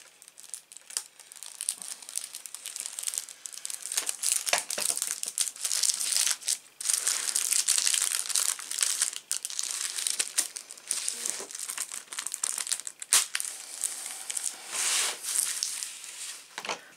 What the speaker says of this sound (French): Je vais tout de suite déballer les fascicules.